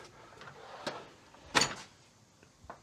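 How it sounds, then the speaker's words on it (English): A drawer sliding open on a garage tool chest, a few quiet rolling scrapes and light clunks in a quiet workshop, with a sharper louder pull in the middle. "Let's go ahead and start going through the drawers."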